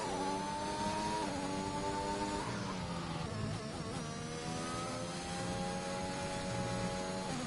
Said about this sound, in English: Sounds like the car's going into fuel saving mode quite often.